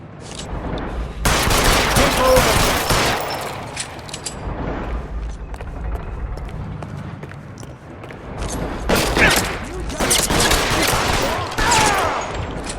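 Shootout gunfire in the video game L.A. Noire, with loud bursts of rapid shots around the start and again near the end, quieter scattered shots and rumble in between.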